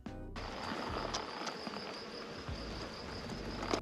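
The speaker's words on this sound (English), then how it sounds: "it sounds like someone's chainsawing because it's so loud of all the bees" Dense, steady buzzing of many bees swarming a flowering bottlebrush tree in a food forest garden, a loud continuous drone with a high whine layered on top and no voices.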